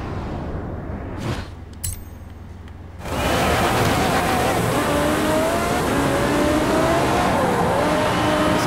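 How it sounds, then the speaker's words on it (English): Aston Martin Vulcan racing in Forza Horizon 4, a loud sustained engine roar that surges in after a quieter start and holds high revs with rising and falling pitch sweeps. "Racing a jet in the Aston Martin Vulcan."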